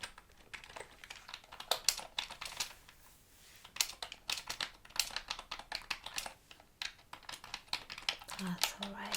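Rapid, soft clicking of fingers typing on a computer keyboard during an ASMR eye exam, steady bursts of close keystrokes with brief pauses and a quiet voice briefly heard near the end.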